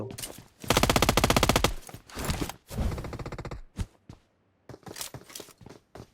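Video game gunfire bursts out in a long rapid machine-gun volley, then comes in shorter bursts and single shots separated by brief pauses.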